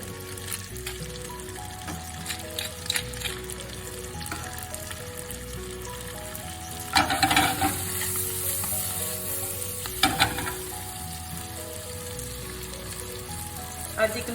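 Spinach sizzling and crackling steadily in a hot pan, with a few louder bursts of frying as it is stirred, up close and without talking.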